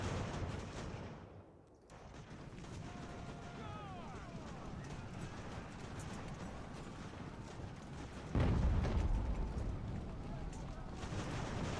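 Cannon fire from an 18th-century artillery battery in the Ultimate General: American Revolution strategy game, with a heavy low boom breaking out late over a steady din of battle and hoofbeats, while someone talks throughout.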